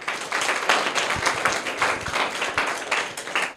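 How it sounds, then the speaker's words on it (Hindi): Schoolchildren clapping for a correct answer in a classroom, a lively burst of uneven hand claps close by, sustained for a few seconds. "जोरदार तालियां इनके लिए।"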